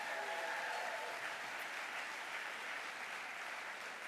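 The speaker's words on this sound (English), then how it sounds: "Give them a big round of applause." An audience at a safer-communities summit claps in a steady, even wash of applause that continues throughout at moderate, slightly distant volume.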